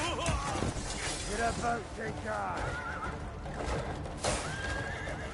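Horse in the video game Crimson Desert whinnying repeatedly over clip-clopping hooves, with several loud neighs that rise and fall, and a voice speaking amid the game sounds.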